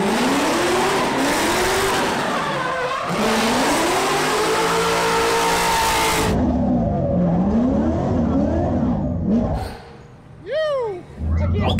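A pro-am race car's engine revs hard and rises and falls in pitch, with tire squeal, loud and sustained, then quieter squeals near the end while people talk over it.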